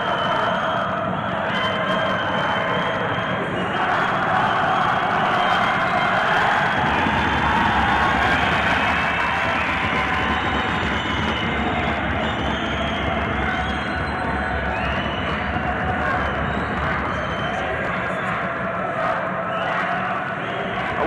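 A capacity crowd roars without letup at an African Olympic qualifying boxing semi-final in Casablanca's Mohammed V Sports Complex, a dense, loud wall of cheering and chanting that swells in the first seconds and then holds for the whole stretch.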